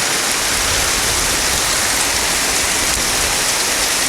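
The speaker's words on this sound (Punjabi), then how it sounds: "ਪੂਰੇ ਜ਼ੋਰਾਂ ਦੇ ਮੀਂਹ ਆ" Heavy rain pouring down steadily on a farm where an Arjun 605 tractor is stuck, a dense, loud wash of hiss with no pauses and no voices.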